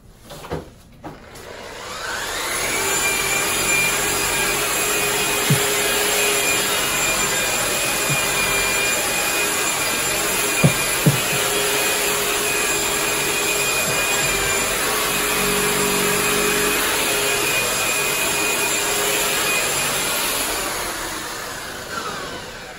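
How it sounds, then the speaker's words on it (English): An electric polisher buffs silver pearl wax over black Venetian plaster with a loud, steady whirring drone that holds for about twenty seconds, with a few light knocks and no talking. "we're gonna come back with a polisher and buff it up"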